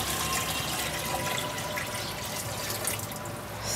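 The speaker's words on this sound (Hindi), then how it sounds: "सही है जी, हमने पानी ऐड कर दिया इसमें।" Water being poured steadily into a pink mini washing machine at an electronics wholesale shop, a continuous close splashing and trickling fill with no talk over it.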